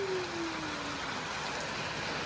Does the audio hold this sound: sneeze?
no